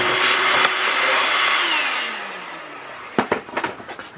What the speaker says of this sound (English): It's actually so dirty inside this thing, I'm gonna vacuum it out.